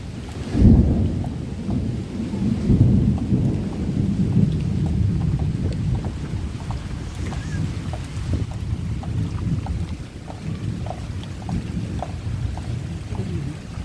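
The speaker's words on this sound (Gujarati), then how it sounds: "ગાજ વીજ સાથે વીજળી પણ કડાકા ફૂલ થાય છે તમે જોઈ શકો છો" A thunderstorm with lightning rumbles with deep rolling thunder over steady rain, the low roar strongest early and continuing as scattered drops patter throughout.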